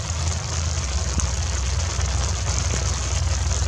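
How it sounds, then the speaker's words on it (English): Steady rain pattering on an umbrella overhead, a dense continuous hiss with low rumble beneath, close and fairly loud with a few sharper drop hits, no talking. "this rain's just gonna have to be a small rain or something"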